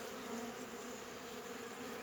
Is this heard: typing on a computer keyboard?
no